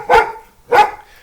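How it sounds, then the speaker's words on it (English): A dog named Chopstick lets out two sharp, loud barks spaced about half a second apart, close by and otherwise quiet in between. "Are you barking while I'm recording?"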